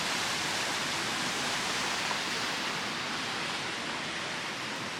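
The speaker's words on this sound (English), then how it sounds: "Cool water features around town." Water splashes and pours from a town water feature beside a hiking trail, a constant broadband rush that stays steady and fairly close throughout.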